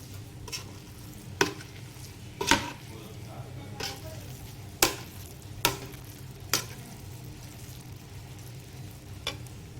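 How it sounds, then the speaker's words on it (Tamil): Mushroom biryani stirred once through the middle of its pot, with several sharp scraping clanks of the spoon spaced irregularly over a low steady hiss, close and moderately loud. "இப்போது நடுவில் ஒரு வாட்டி கிண்டிட்டு மூடி வச்சுக்கலாம்."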